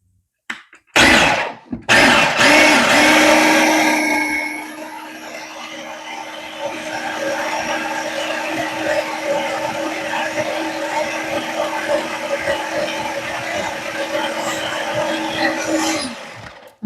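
A lidded blender whirs through mayonnaise ingredients, starting with a couple of sharp bursts, then a loud motor whine that settles into a steady grinding hum for over ten seconds before cutting off.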